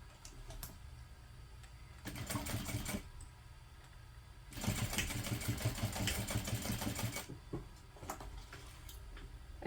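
A sewing machine stitches a tote bag close to the fold in short bursts: a brief run, a pause, then a longer steady whirring run of needle strokes, with faint clicks between and no talk.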